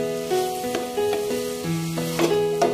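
Bitter gourd (ampalaya) sautéing with eggs and sardines in a pan, a continuous soft sizzle with scraping stirs and light clinks, while background music plays over it.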